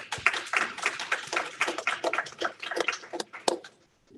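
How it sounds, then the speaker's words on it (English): An award ceremony audience gives a round of applause, with loose, uneven clapping that swells and thins in bursts before fading near the end. "Let's do one more round of applause."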